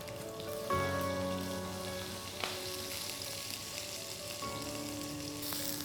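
Roasted vegetables sizzling in a pan of hot olive oil as mustard seeds go in, a steady crackling hiss with a brief clatter and a sharper burst of frying partway through.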